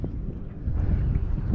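Wind gusting across a kayak on open water on a fishing outing, a steady low rumble of buffeting against the microphone that swells louder in the second half, with no talk.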